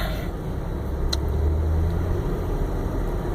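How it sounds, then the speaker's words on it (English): Road traffic rolls past in a low, continuous rumble of car engines, moderately distant and steady, with one brief sharper sound partway through. "wow, this traffic is something else"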